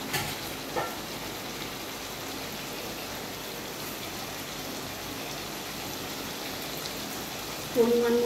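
Chicken and potatoes fry with spices in a pan, a steady even sizzle throughout with occasional stirring scrapes, moderately close, and a brief sound of a voice near the end.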